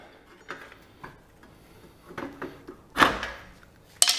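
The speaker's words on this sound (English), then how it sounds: "just like that, you've got the axle shaft slid out of the axle housing" An axle shaft is pried and slid out of its axle housing, giving faint scattered metallic clicks and scrapes and then a louder clunk and rattle as it comes free, close and quiet.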